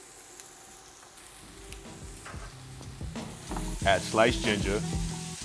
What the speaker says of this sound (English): When you're sauteing your vegetables, season them a little bit.